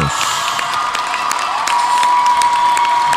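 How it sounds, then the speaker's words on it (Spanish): An audience applauding and cheering, with loud clapping mixed with shouts and whoops from the crowd, growing slightly louder toward the end. "Aplaudimos todos."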